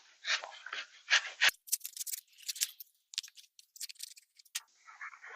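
Cured urethane spray foam being cut through with a blade, giving a close series of dry crackling, crunching rasps in irregular bursts with brief pauses, and no talk.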